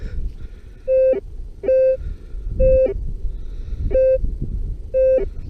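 Beeping from a Rutus Alter 71 metal detector: five sharp, evenly spaced electronic tones about a second apart, each a short bright bleep over a rumbling background of ground noise.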